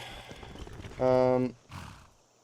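A horse in Skyrim gives a short, bright whinny over muffled game ambience, followed by a brief soft thud, likely a hoof or mounting sound, with no talk.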